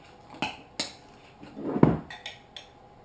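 A spoon mixes a trout filling in white sauce in a bowl, knocking against the side in a few sharp clinks and one heavier scraping stir, close up over quiet pauses.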